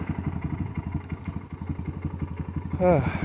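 The engine of a fuel-injected Honda 300 Fourtrax ATV runs at a steady, rapid chugging idle close by. A brief voice-like sound rises over it near the end.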